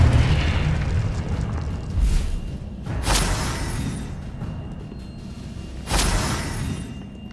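Confringo fire-blast spells from Hogwarts Legacy, several distinct booming explosions, three sharp ones at uneven intervals, over a low rumbling background with no talking.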